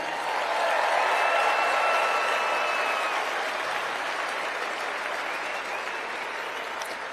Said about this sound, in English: I'm asking you to give yourself a round of applause right now